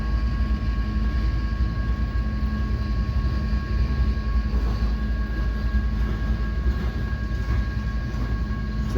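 A freight train hauled by consecutive locomotives rumbles past with a heavy, continuous low roar and steady wheel noise, near and loud for the whole stretch.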